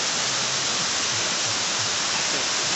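A waterfall outdoors on a January 2022 outing pours in a steady, dense broadband roar, loud and continuous throughout with no voices over it.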